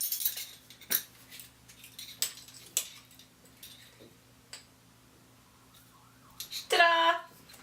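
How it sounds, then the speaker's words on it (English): A fork mixing ground black pepper, thyme and kosher salt in a small bowl, giving a series of light metallic clinks and scrapes at irregular intervals, close by, with a voice speaking briefly near the end. "I'm just gonna mix it together with a fork."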